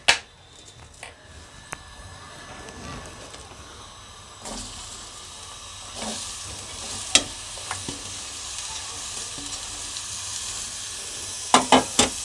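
Onions frying in a little oil in a kadhai on a gas stove, a steady broadband sizzle with occasional sharp clicks and scrapes of a spoon stirring, no voices.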